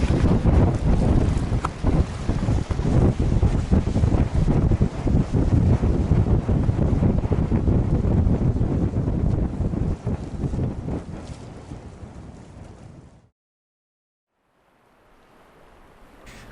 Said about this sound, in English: the wind's really got up this afternoon